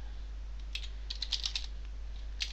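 Light typing on a computer keyboard while entering HTML code, a few scattered soft clicks and a short burst of keystrokes over a steady low hum.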